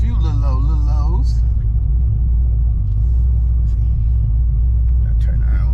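A car rolls slowly through a car meet with a deep, steady rumble up close, while people talk and whoop over the engine noise at the start.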